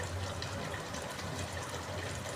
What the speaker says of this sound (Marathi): बघा पाणी घालून घेऊ.